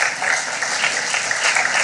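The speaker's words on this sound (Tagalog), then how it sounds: "pumalakpak para sa Diyos." Church congregation clapping together, a dense, loud burst of many hands applauding continuously and close by, steady throughout.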